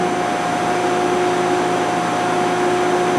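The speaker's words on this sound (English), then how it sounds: "We're shoving media up through the tube into the bottom cylinder, and the bottom cylinder's dropping." An Extrude Hone Spectrum Series 10/8 one-way abrasive flow machine pushes media up a tube into its bottom cylinder, making a loud, steady mechanical roar and whine with a constant tonal hum and no pauses.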